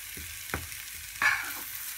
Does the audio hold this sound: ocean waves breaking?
no